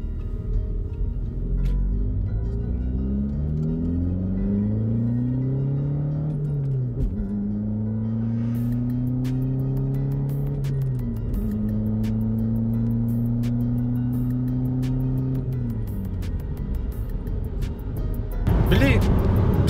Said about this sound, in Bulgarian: Тогава попитахме Бойко дали може да ни покаже колко върви колата.